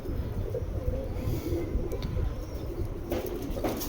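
Tournament flying pigeons coo softly and steadily under a constant low background rumble, with a brief burst of noise near the end.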